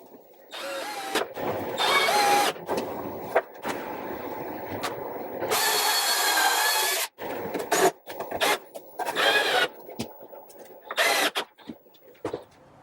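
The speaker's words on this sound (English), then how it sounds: "then you withdraw the drill and drill at the angle you want to." A power drill whirs in repeated bursts of varying length while drilling angled holes in wood for a sawhorse, starting and stopping with short pauses, close by and loud.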